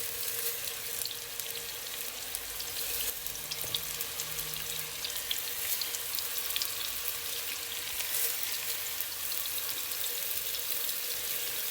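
Meatballs sizzle in hot oil in a pan, a steady close crackle and hiss that runs throughout with no talking.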